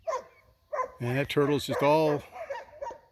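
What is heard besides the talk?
dogs barking at a turtle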